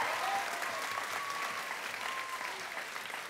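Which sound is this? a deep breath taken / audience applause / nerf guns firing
audience applause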